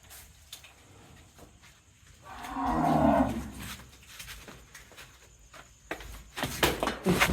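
A deep, drawn-out moo from a bull being loaded for transport rises in the middle, loud and fairly close, surrounded by shuffling and scattered knocks and rustles.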